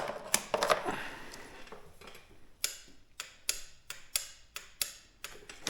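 Sharp dry clicks from a Tao Tao quad that won't start, ringing out one after another at an uneven pace, with a few quick early clicks and then a steady run of single loud snaps spaced about half a second apart.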